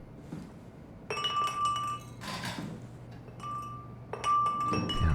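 Glass clinking and shattering in the sci-fi horror video game SOMA, with several sharp, ringing hits spaced a second or so apart and bright, lingering glassy tones.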